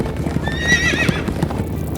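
A horse lets out a shrill, wavering neigh over the steady clatter of hooves, close and clear.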